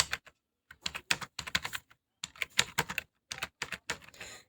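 A search query for Google being typed on a computer keyboard: close, crisp keystrokes in quick bursts separated by short pauses, with no speech.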